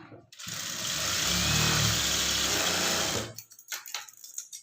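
A sewing machine stitches a blouse in one steady, loud motorized run of about three seconds, then stops and leaves a few softer clicks and handling sounds.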